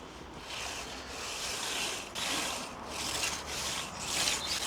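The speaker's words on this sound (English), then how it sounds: "Why do we do the final rake here, Jason?" Rake dragged across lawn soil before seeding, filling dips and holes, a steady scraping, rubbing sound in repeated close strokes with no talk.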